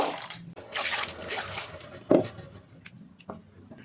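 Water from a mixer jar poured into a pot of egg curry, a short splashing pour followed by a few drips and a soft liquid splash, close by and heard alone.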